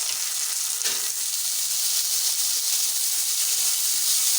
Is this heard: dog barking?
no